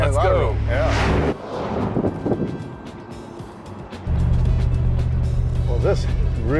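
A 1971 Ford Thunderbird classic car engine with a deep, loud rumble that drops away briefly, then surges back strongly as it drives off, with people talking over it.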